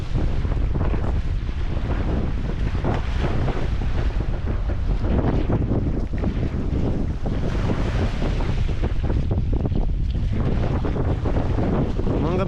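Strong storm wind roars and buffets the microphone while waves wash around a rocking boat at sea, a dense loud rush with no break.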